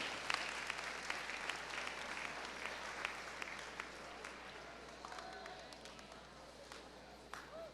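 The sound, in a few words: applause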